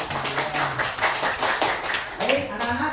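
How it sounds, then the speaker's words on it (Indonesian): Scattered classroom applause from students for a classmate, quick claps pattering for about three seconds, close and fairly loud, with voices talking and murmuring underneath. "Tepuk tangan untuk Alia"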